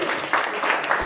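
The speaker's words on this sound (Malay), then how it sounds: "Berikan tepukan kepada wanita ini." A class in talent management breaks into brief applause for a woman, a short burst of close, dense clapping.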